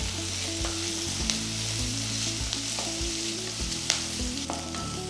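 Onion and sliced garlic sautéing in a pan for a Kerala raw breadfruit curry, a steady close sizzle and frying hiss with repeated low scraping stirs, no talk.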